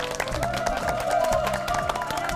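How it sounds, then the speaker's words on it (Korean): An audience at a CBS Academy lecture hall applauds to welcome Dr. Hwang Sung-joo, with dense, continuous hand-clapping at moderate volume and a steady texture throughout. "우리 황성주 박사님을 박수로 모시겠습니다"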